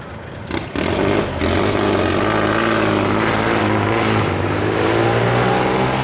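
Kubota L4018 tractor with a 40-horsepower three-cylinder diesel engine idling nearby, a steady loud throbbing drone after a brief quieter start.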